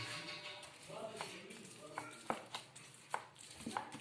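Flattened chicken pieces are sliced into long strips with a knife. Quiet, irregular cutting taps and knocks on a board sound close by while a voice talks softly alongside.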